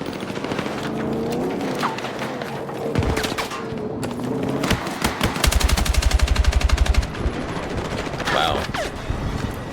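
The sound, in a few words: AK rifle gunfire in a video game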